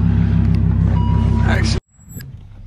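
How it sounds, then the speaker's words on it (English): A 900 hp supercharged Lamborghini Huracan Performante launching: a loud, close engine roar that holds steady and then cuts off abruptly, followed by a lower rumble and faint background noise. "Here we go, VF supercharged. Lamborghini Huracan Performante."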